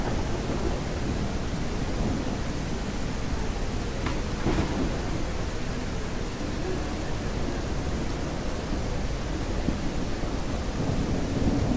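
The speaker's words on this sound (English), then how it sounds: "I like it because it's got really good thunderstorms" A dense, steady rain hiss fills an Unreal Engine 5 game thunderstorm, with a brief thunder crack near the middle rising over the constant downpour; no voices.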